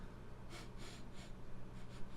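Someone takes several short, close sniffs over a freshly opened can of Pepsi Fire cinnamon-flavored cola, a quick rhythmic series of breathy intakes with no talk.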